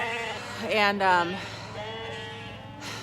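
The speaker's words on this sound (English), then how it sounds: "my sheep are mad" Sheep on a farm bleating loudly and close by, a couple of wavering calls followed by a fainter one, with a brief spoken word in the clip.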